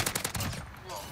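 Shotgun blasts in a first-person shooter video game, a few loud sharp bursts in quick succession near the start, with game noise continuing behind.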